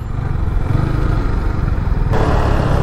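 Motorcycles pass in busy traffic near a parking area, with a steady, loud engine drone and rumble that swells slightly as another bike goes by.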